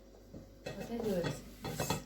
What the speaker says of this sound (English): Mix the carrots with the rice and with the meat